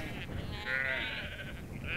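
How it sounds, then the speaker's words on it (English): Sheep bleat several times from a field during a countryside stroll, the calls overlapping in a wavering chorus over steady outdoor background noise, with no voice over them. "There are the baa baa black sheep."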